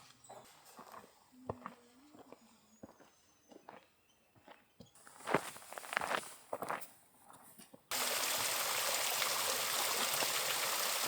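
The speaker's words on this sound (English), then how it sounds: "Found this nice creek with flowing water." A creek on a high-mountain backpacking trail in California, its flowing water building to a loud, steady rush that fills the end, after earlier footsteps and scattered rustling.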